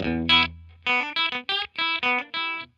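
Electric guitar run through a delay pedal set for a short repeat, almost like a quick faux reverb: a series of clipped, slightly distorted notes and chords in a choppy rhythm, each trailed by a fast echo, loud and with no voices.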